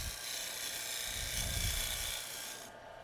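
A bowl gouge cuts into a spinning wooden bowl on a lathe, giving a continuous rasping, scraping hiss with a low rumble that swells mid-way and then cuts off sharply near the end.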